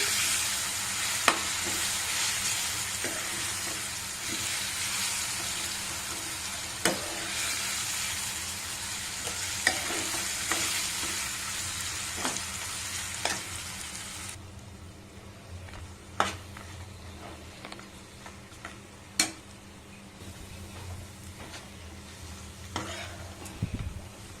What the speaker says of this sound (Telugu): ఒక ఐదు నిమిషాల పాటు మనము ఈ మామిడికాయ తురుముని ఈ తాలింపులో ఇలా కలతిప్పుతూ ఫ్రై చేయాలి